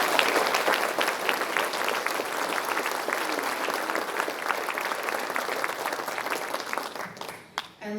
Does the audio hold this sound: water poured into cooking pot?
no